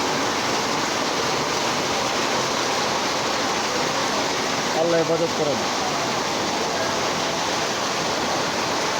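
Floodwater from rain standing knee-deep in a street in Mirpur, a dense, loud, constant rushing wash with a voice briefly speaking over it.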